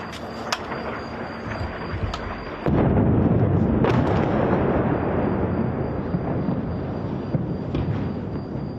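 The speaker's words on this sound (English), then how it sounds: "we have heard more explosions behind us here in Beirut" Explosions boom in the distance over Beirut in the evening, a sharp onset followed by a long rolling rumble that fills the open air, with smaller pops and cracks before and after and no talking.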